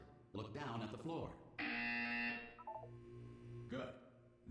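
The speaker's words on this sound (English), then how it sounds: "You will hear a buzzer" A harsh electronic buzzer tone in Portal 2 sounds for about a second amid a synthetic voice, with other synthesized tones and beeps before and after.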